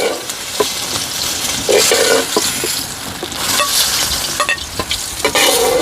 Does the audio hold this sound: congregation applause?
no